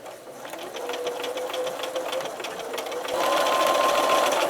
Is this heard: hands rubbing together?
no